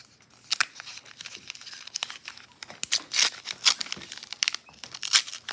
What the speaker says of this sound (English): I love the sound of flipping these paper packs.